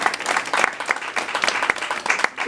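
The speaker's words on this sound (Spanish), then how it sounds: "¿Cuántos le dan un aplauso al Señor?" A church congregation applauds in praise, a loose, close crowd of clapping hands with irregular sharp claps standing out, steady for a couple of seconds.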